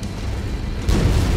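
A short, deep rumbling blast in MechWarrior 5 Mercenaries as a mech's leg is caught by an explosion, swelling from a low roar into a heavier boom.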